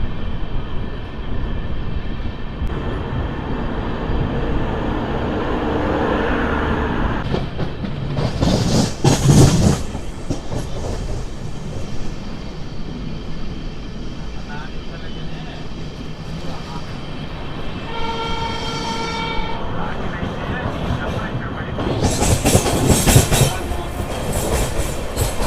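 The Pinakini SF Express, a new LHB rake from Vijayawada to Chennai Central, runs loud with a steady clickety-clack, a passing train roaring by, and a sustained horn blast near the end.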